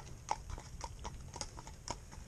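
A horse's hooves clip-clop in a quick, regular trotting rhythm, fairly close but quiet, with no talking over it.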